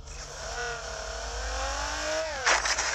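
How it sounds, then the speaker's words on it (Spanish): A car engine in Call of Duty Mobile revs with rising and falling tones, climbing steadily then dropping sharply near the end amid a brief burst of noise. "Este auto suena bacanísimo."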